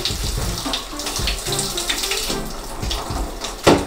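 Water runs steadily from a tap over a fishing reel held upright and tilted while it is rinsed clean after squid fishing, a continuous close splashing hiss with one brief louder splash near the end.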